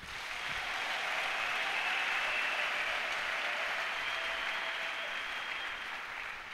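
A church congregation applauds together in a sustained, steady wash of clapping that stays loud and even throughout, with no talking over it.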